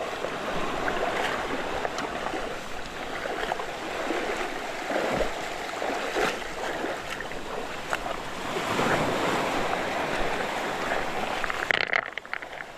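Sea waves wash steadily onto a shore of clear seawater at a picnic spot with a freshwater stream flowing in, a broad continuous surf roar with wind buffeting the microphone and no talk.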